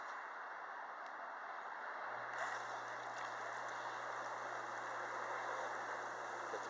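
Cal Spa hot tub with three pumps running, a steady rushing water hiss joined partway through by a low constant pump hum, moderately quiet and close.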